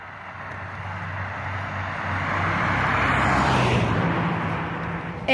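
A vehicle passing by outdoors, its broad rumble swelling gradually to a peak and then fading away over a few seconds, with steady background noise throughout.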